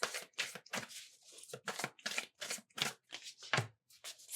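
Tarot cards are shuffled in quick, crisp riffling bursts, about a dozen sharp papery flicks in an irregular rhythm, close and clear with no talking.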